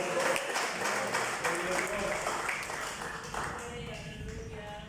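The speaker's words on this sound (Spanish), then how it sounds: "denle una ofrenda de palmas al Señor" A church congregation claps together in a dense, sustained round of applause, with a voice running underneath the clapping throughout.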